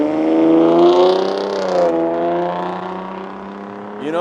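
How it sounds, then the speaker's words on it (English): A V6 car engine revs hard at wide open throttle in a long second-gear pull at a car meet, a loud rising harmonic whine that holds steady and then climbs again at the end. "You know that's wide open throttle"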